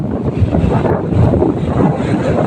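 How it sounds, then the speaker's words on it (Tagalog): Big waves and strong wind during the Amihan monsoon on an overcast coast near Barangay Pinulasan, a steady loud roar of surf with gusting wind buffeting the microphone, continuous throughout with no talking. "Kaya po, malalaki po ng alon."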